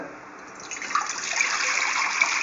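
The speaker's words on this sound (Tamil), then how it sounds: "தண்ணீர் ஊற்றி வச்சுக்காங்க" Water pours from a tap into a pressure cooker on a kitchen stove, a steady hissing rush that gets louder after the first moment and keeps going at an even level with no talk over it.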